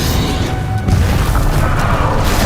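A Bombarda blasting spell in Hogwarts Legacy goes off as a loud, deep boom, followed by a heavy, rumbling crash that keeps going to the end.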